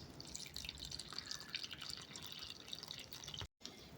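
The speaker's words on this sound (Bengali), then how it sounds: "অল্প অল্প করে পানি দেব।" Water trickles a little at a time into a bowl of rice flour batter with egg, a quiet, close dribbling with a brief break near the end.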